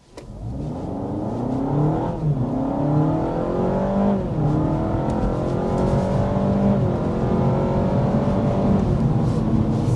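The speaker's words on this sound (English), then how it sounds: "But first, we need to start with a hard acceleration." A 2026 Honda Civic compact car under hard acceleration, engine rising steadily in pitch through several upshifts, each gear change dipping the note before it climbs again, loud and continuous from inside the car with no talk.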